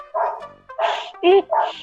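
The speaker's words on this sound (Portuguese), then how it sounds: "alguém tá mexendo com esse cachorro" A dog barks several times nearby in short, loud yaps, close to the microphone during a casual podcast recording.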